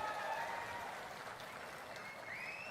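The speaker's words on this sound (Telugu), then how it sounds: "ప్రజల తరపున మీరు కూడా గట్టిగా చప్పట్లు కూడా చెప్పండి" A crowd at a public political gathering attended by Chief Minister Chandrababu claps together in a dense, continuous applause. It is steady and fairly distant, with no break.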